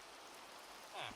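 Rain falls as a steady, soft broadband hiss throughout, with a slightly louder swell near the end.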